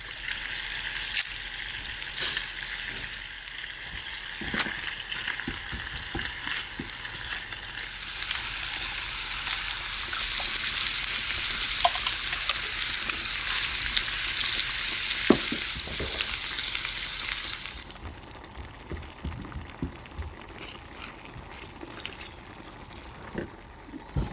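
Spaghetti bolognese sauce fries in a pan in a converted barn kitchen, a steady broadband sizzle with occasional clinks of stirring that fades to a quieter simmer near the end.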